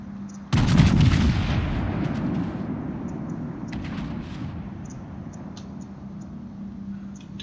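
A heavy naval gun salvo of armor-piercing rounds booms out in a warship video game, one loud blast followed by a long rolling rumble under a steady low engine drone.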